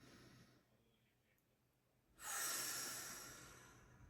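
A slow, soft breath during a gentle yoga class is faint and close at first, then swells into one long, airy exhale that tapers off gradually.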